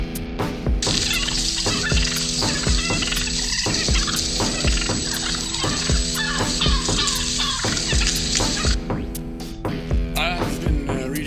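Turkeys gobbling in repeated rattling bursts, loud and close, over a sustained droning tone with rhythmic low thumps beneath, no speech.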